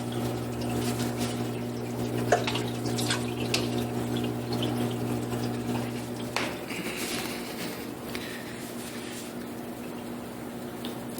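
Sump water being poured from cups onto Miracle Mud in an aquarium refugium, a soft steady trickle and splash lasting throughout, faint under a constant low pump hum.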